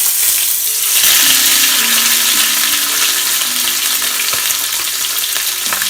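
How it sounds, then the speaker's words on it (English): A steak sears in a hot pan with a loud, continuous close-up sizzle and spitting fat, with a few faint clinks and low tonal hums from the kitchen underneath. "And now we're gonna pan sear it."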